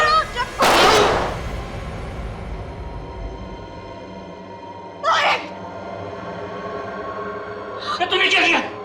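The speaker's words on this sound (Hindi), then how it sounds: "तेरे वजह से गोली चल गई।" Three sharp loud gunshots spaced several seconds apart inside a bakery in a TV crime drama, the first strongest, with echoing decay and a low background rumble between them.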